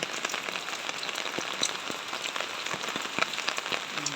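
Steady rain falls as a typhoon approaches, a dense, even patter of drops on surfaces with occasional sharper plinks, close and continuous, with no voices.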